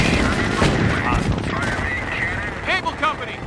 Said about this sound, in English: we're coming under fire